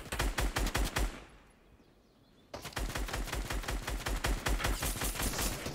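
Rapid bursts of automatic gunfire in the video game Fortnite, loud and close, pausing briefly into a quieter stretch before dense, sustained firing resumes.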